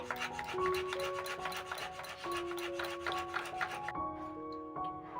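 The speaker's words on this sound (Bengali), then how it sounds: "এখন সাদা চন্দন বেটে নিচ্ছি" White sandalwood ground into paste on a stone for a Shivaratri puja makes close, rhythmic back-and-forth rubbing strokes, repeated steadily and briefly easing near the end, with no voices.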